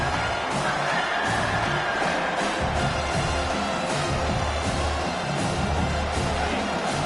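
A stadium crowd roars and cheers as a continuous, dense wash of noise during a college football game in NCAA 25, loud and sustained throughout.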